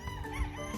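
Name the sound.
chickens on a farm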